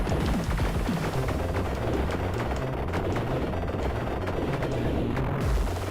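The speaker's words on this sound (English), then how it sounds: "Why is there a caterpillar shooting at me?" Caterpillar enemy shooting in the video game Nikke, a dense barrage of rapid gunfire and booming impacts that runs continuously, loud and close.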